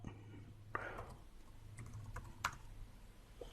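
Quick bursts of keystrokes on a computer keyboard as a command is typed, close and fairly quiet, with a couple of sharper clicks and no talk.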